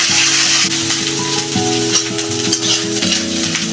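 Ginger paste, garlic paste and green chilies sizzle and fry loudly in a pan for a Bengali banana flower (mochar) chop, a steady close crackle with stirring throughout and no talk.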